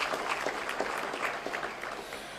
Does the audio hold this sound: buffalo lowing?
no